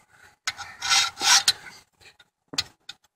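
Rasping strokes of a cleaver with a patinated, long-unsharpened blade being ground on a 100 grit sharpening stone, several long scraping passes close up, then a pause and a few shorter strokes.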